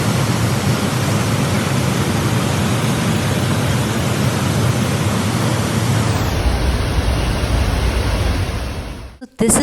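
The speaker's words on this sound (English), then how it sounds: "when you hear the waterfall sound" Athirapalli waterfall in Kerala roaring as a loud, steady rush of falling water, continuous and close until it cuts off abruptly near the end.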